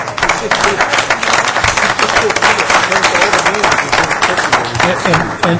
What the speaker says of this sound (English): stand up and give a round of applause